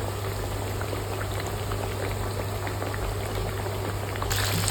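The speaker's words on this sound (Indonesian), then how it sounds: "Ini kita goreng, nggak usah terlalu banyak menaruh isi di dalam wajan supaya suhu minyak tidak cepat turun." Chicken katsu deep-fries in hot oil in a wok, a dense, steady sizzle and bubbling crackle throughout, close and loud with no talking.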